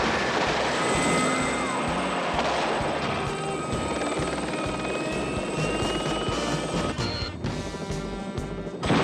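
A helicopter gunship flies close overhead, its loud rhythmic rotor chop pulsing steadily under a whining turbine, dominating the scene without any voices.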